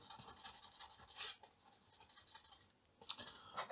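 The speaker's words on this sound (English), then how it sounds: "I just simply scrape a little bit Yeah, I'm just gonna use the fiberglass pen" A fiberglass pen scrapes rust stains off a TI99 4A circuit board in short, close, gritty rasping strokes, quiet and steady with brief pauses between passes.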